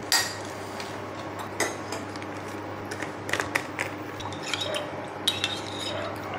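A spoon stirs cornflour into a little water for a Noor-e-Malai creamy dessert, giving steady soft scraping and light clinks against the bowl, close and fairly quiet, with no talk.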